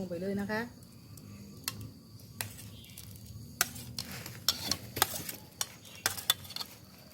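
Fresh shrimp tipped into a pot of southern Thai sour curry (kaeng som) with a bubbling simmer and several sharp clinks and splashes from the pot and utensils, close and moderately loud, under a voice talking.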